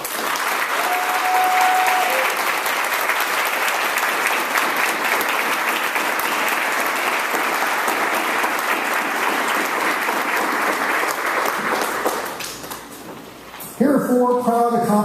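Sustained applause from a crowd at a Howard Brown annual meeting, steady and loud for about twelve seconds, then fading out before a voice begins speaking.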